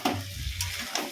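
Ginger and green chili paste with cumin powder sizzles and is stirred in a hot pan for a brief moment, close and crisp with a couple of scraping strokes.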